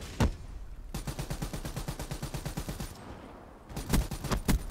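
Video-game gunfire from Call of Duty: Black Ops 3: a sharp single shot, then a long rapid automatic burst, a brief lull, and a few more loud close shots.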